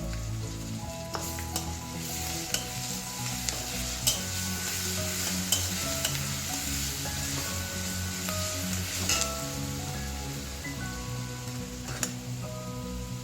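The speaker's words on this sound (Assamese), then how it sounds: "পিঁয়াজখিনি আধা ভজা হোৱাৰ পিছত মই এতিয়া ইয়াতে নহৰু আধা চামুচ দি দিছোঁ।" Onions, then garlic, sizzling and frying in oil in a kadai for an Assamese fish curry, with steady crackling and repeated scrapes of a spoon stirring throughout, close and fairly loud with no talk.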